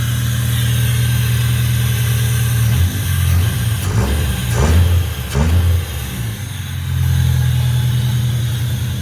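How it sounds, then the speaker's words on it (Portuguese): A Palio with a holed exhaust and a jammed fuel pump, auctioned and now running, idles with a loud, raspy drone, then revs sharply in three quick blips before settling back to a rough idle, close and alone. "o escapamento tá furado mesmo."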